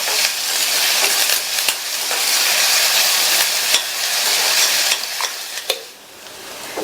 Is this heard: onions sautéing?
yes